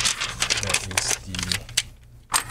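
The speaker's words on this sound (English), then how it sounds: "peel the tape that I just installed" Tape peeled off an iPad 8th generation A2270 screen during a digitizer replacement, a few quick close crinkling rips and tearing bursts with short pauses between them.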